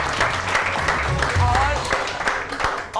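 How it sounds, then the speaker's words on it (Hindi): An audience at a weekend stage show applauds loudly and continuously, with dense clapping and a low musical hum underneath, lasting a few seconds. "तालियां होनी चाहिए इनके लिए भरपूर"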